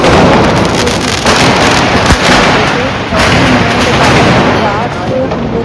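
Rapid, continuous bursts of Diwali firecrackers pop and crackle loudly, with a few sharper bangs standing out amid the din.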